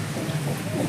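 Steady rain falling outdoors on a cool monsoon day, a dense, even wash of patter over a low rumble that holds without a break through the short moment, with no voices.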